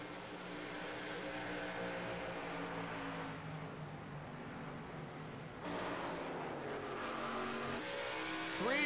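Race cars power through a corner during a three-car battle for the lead, a distant, steady engine drone that swells as the cars pass, with a brief tire squeal at the end.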